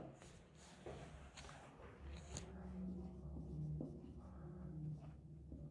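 Chalk or marker writing on a board during a classroom chemistry lesson, soft scratchy strokes in short bursts, fairly faint, over a low room hum.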